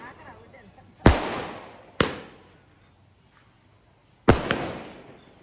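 Three loud firecracker blasts burst at uneven intervals at a celebration, each sharp crack followed by a crackling, fading tail.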